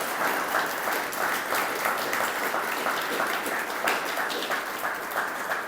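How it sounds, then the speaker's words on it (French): A lecture audience applauds steadily after a talk, continuous mid-distance clapping for several seconds with no speech over it. "Alors merci encore Louis, je pense qu'on peut l'applaudir, et merci pour cette conférence."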